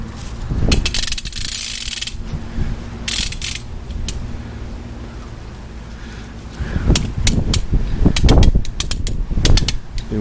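Maasdam rope puller being ratcheted to tighten a rope on a tree outdoors, with bursts of rapid mechanical clicking in several separate runs, loud and close, with gaps of quieter wind between.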